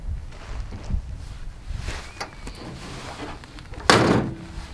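The soft-opening tailgate of an Isuzu D-Max pickup truck gives a single dull thunk near the end, after quieter handling clatter and faint background noise.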